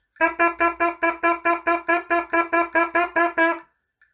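A buzzing brass-like tone from lips buzzing on a baritone horn mouthpiece, repeated in short, evenly spaced bursts, about fourteen pulses in a steady rhythm, close and fairly loud.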